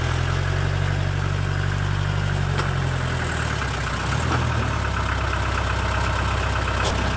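Engine of a Peugeot P4 off-road vehicle running steadily with the axle differential lock engaged, a continuous low idling rumble with vibration that shifts slightly in tone midway, no talk.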